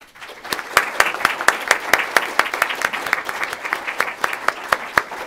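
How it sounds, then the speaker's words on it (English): Audience applause in a conference hall after a panel presentation, steady and moderately loud, with many separate claps sounding without voices over them. "Please join me in applauding these results"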